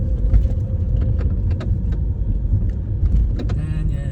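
Car rolling slowly into the Panorama building parking entrance in Miami, a steady low engine and road rumble with small rattles and clicks over it, close and continuous.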